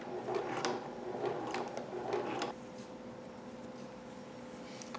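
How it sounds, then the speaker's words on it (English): Zigzag stitching on fabric runs on a sewing machine for a nightgown, with a quick mechanical whir and ticking for about half the time, then quiet hum, close but soft, no voices. "I'm just gonna zigzag over it so that it doesn't fray."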